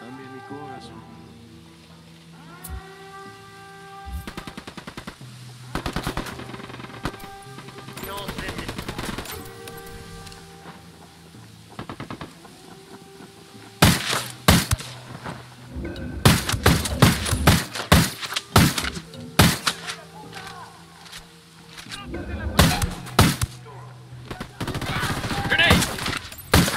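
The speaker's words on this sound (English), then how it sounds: "Target acquired. Opening fire." Gunfire in the Ghost Recon Wildlands video game: bursts of automatic fire and rapid sharp shots, loud and dense from the middle onward, with quieter scattered shots earlier and game speech and music underneath.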